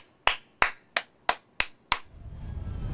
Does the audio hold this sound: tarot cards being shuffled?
no